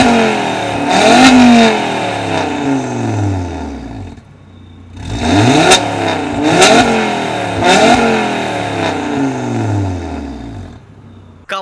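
An Audi RS3 8V engine is revved repeatedly in loud, close bursts, each rising and falling in pitch, with short lulls between three rev sequences and no talking.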